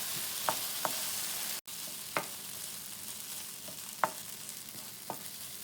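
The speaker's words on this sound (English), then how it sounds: "We'll cook this for another couple of minutes. We just need to thicken a bit more." Thick tomato thokku simmering and sizzling in a pan, a steady soft frying hiss broken by a few sharp scrapes and knocks as it is stirred.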